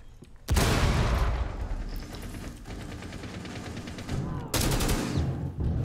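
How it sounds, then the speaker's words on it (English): Loud, dense gunfire with heavy booming bursts erupts suddenly in a wall-banging shooter match, sustained rapid shots carrying on throughout, with a second sharp burst near the end; a voice is briefly audible beneath the battle. "I'm gonna just drop a grenade on it."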